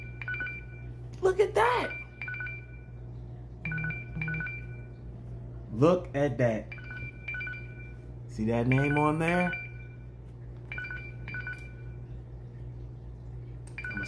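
A phone rings remotely through a find-my-device feature, repeating electronic tone bursts in a steady pattern while someone talks over it now and then.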